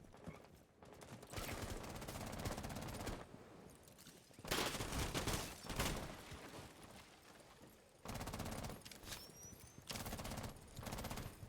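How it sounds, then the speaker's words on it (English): Gunfire in the video game Rainbow Six Siege, heard as bursts of rapid automatic shots in several clusters with quieter gaps between them, at fairly low level. "a couple of gunshots there"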